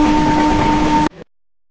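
Dhauli Express passenger train at Kharagpur Junction, a loud steady rumble of rolling stock with a sustained tonal whine that cuts off abruptly, followed by a brief quieter tail and then silence.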